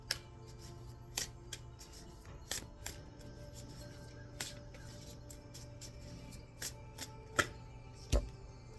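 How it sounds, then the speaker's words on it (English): Tarot cards are shuffled close by in repeated crisp riffles and snaps, with short pauses between bursts and no talking. "I shuffle and you guys see me shuffle."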